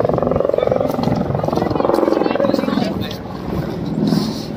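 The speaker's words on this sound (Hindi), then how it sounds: "देखो हेलीकॉप्टर दिखा रहा हूँ आपको।" A helicopter's rotor thumps in a rapid, steady pulse nearby at Badrinath, loud, with a person talking over it as rain begins.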